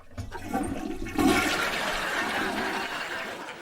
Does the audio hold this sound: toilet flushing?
yes